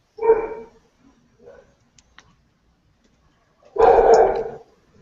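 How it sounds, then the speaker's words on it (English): A dog barks twice during an online group meeting, two loud separate bursts a few seconds apart with quiet between. "Where's that dog coming from?"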